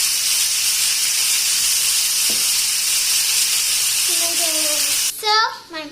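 Potatoes fry with salt in a pan, giving a steady loud hiss and sizzle, and near the end a short sliding squeak and clatter break through.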